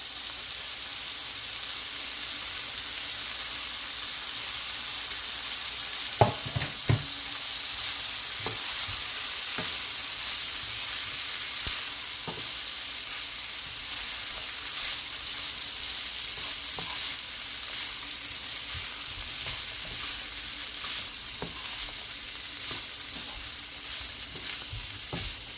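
Rice for Jamaican-style vegetable fried rice sizzles and crackles steadily in a hot pan, with occasional scrapes and knocks from stirring over the continuous frying hiss.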